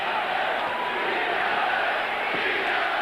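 A packed Boston Garden arena crowd at a Celtics basketball game chants Beat LA, a dense continuous roar of massed voices that holds steady and loud for the whole stretch.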